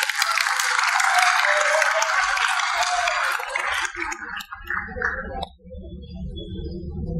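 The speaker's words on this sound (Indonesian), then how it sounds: "Tepuk tangan untuk itat" New students applaud together at a university orientation event, a dense burst of clapping for a few seconds that thins out and fades, followed by quieter room sound.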